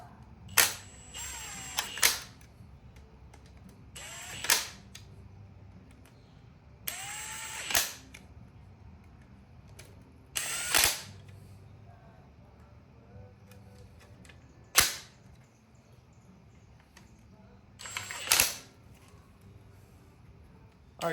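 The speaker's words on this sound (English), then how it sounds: "So let's put the rest of these bolts in and tighten it down." A ratchet tightens the bolts on a Melling oil pump during an LS1 engine swap into an S13. Short bursts of clicking come every few seconds between quiet pauses, close and distinct.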